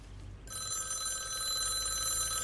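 A telephone rings in a film, a bright electronic trill that starts after a short quiet moment and rings on continuously and clearly to the end.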